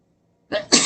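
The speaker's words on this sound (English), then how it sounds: "try to sneeze" A single close sneeze, a short sharp intake followed by a loud burst, after a moment of near silence.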